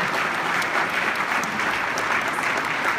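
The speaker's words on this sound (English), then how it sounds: "How about a round of applause for her?" An audience at a cystic fibrosis charity celebrity dinner party claps steadily, a dense sustained applause filling the room with no talk over it.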